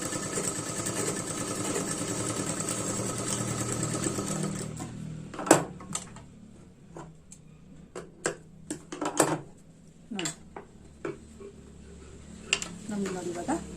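Sewing machine stitching a blouse, a fast continuous mechanical whir at first, then giving way to scattered clicks and taps as the fabric is handled, with a person talking throughout.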